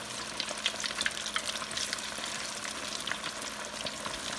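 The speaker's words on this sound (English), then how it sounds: "So we're going to dump our fish into the fryer." Fish dropped into hot oil in a deep fryer sizzles and crackles with a continuous, fairly soft bubbling hiss and scattered small pops throughout.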